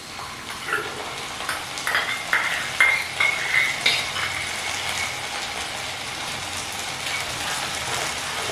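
Ginger garlic paste fries with onions in a pan, a steady sizzle broken by a run of rhythmic scraping and clinking strokes from a utensil in the middle, close and without talk.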